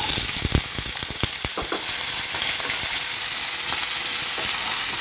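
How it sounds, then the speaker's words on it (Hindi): Potatoes fry in hot mustard oil with a loud, constant hiss of sizzling, and a run of clicking and scraping strokes comes early and then tapers off. "और अब मैं डालूंगी आलू। आलू हल्का सा फ्राई कर लूंगी।"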